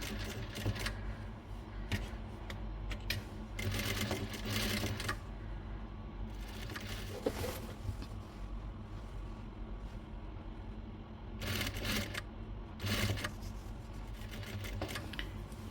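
A sewing machine stitches the edges of a designer bedsheet in several short bursts of fast, rattling whir separated by quieter pauses, heard close and moderately loud.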